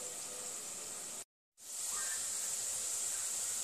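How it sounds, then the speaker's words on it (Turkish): Whole peppers with their stems on sizzle in a frying pan for an easy home-cooked dinner, a steady close hiss that drops out briefly near the middle and then returns slightly louder. "Biberimizin iki ucunu alıyorum ve sapıyla kızartıyorum."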